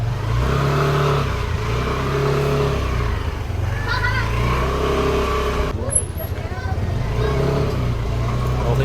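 A Yamaha NMAX scooter rides on a road test after a CVT belt and clutch spring change, its engine droning steadily and close throughout with a brief shift in tone near the end and no talk over it.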